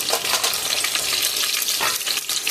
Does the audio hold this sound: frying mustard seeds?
yes